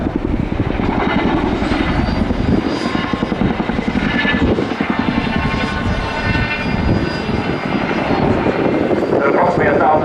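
Boeing Chinook twin-rotor helicopter climbing steeply during an airshow display at RIAT 2015, a loud continuous rotor thump and turbine roar close by throughout.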